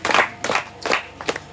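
A church congregation claps in a few loud bursts of hand claps, spaced apart and close by, separated by short quieter gaps.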